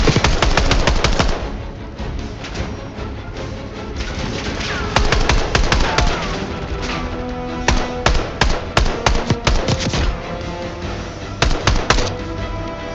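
Rapid automatic gunfire and sharp gunshot bursts from Call of Duty: Black Ops 6 combat, loud and dense, with repeated volleys clustering in rattling runs over a steady backdrop of game noise.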